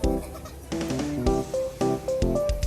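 Sheep bleat repeatedly in a crowded pen at a tourist park farm in Tawangmangu, several overlapping calls close by over continuous background noise.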